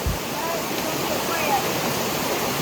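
A rushing stream at a water crossing on a rainy hiking trail, a steady broadband wash of flowing water, close and continuous, with a brief thump at the start.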